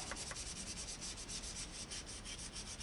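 Soft bristle wire brush scrubbing a furnace burner part, a steady close rasping rub that continues without pause, quiet and alone with no voices.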